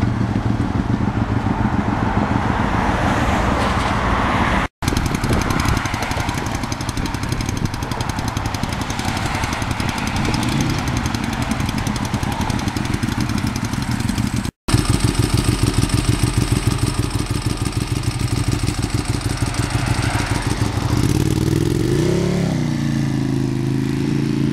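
A restored 1973 Kawasaki H1 motorcycle with a two-stroke triple engine is ridden, its loud, continuous buzzing exhaust running almost the whole time, with two brief dropouts and a rising rev near the end.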